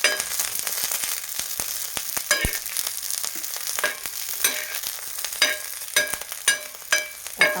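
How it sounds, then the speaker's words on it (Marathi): Garlic cloves roast in a pan for chilli thecha, giving a bright crackling sizzle broken by sharp pops and spatters that grow more frequent toward the end, with no one speaking. "अडीच ते तीन लसणाच्या कांड्या घेतल्या होत्या आपण छान भाजून घेऊया"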